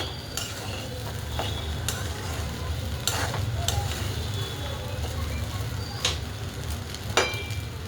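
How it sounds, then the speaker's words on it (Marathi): Sabudana khichdi being stirred in a pan over a low sizzle, with repeated sharp scrapes and clinks of a spoon against the metal at an uneven pace, close and clear with no talking. "परत एकदा हलवून घेऊया आपण शाबुदाना"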